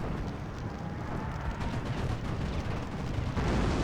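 Bombs burst in a Steel Division 2 battle as a dense, continuous roar of rumbling blasts and crackling fire, loud and unbroken throughout with no voices.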